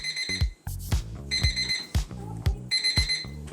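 A loud alarm clock at its highest volume setting rings insistently, repeating bursts of shrill electronic beeps in a steady rhythm, close and piercing.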